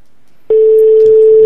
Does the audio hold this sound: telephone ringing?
yes